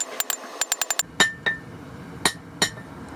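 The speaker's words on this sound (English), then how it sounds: "Just rounding it off a little bit so that the hammer won't make any mushrooming as easily." Hand hammer striking hot steel on an anvil while forging a barbecue fork, a quick run of light ringing taps followed by a few heavier, widely spaced metallic blows.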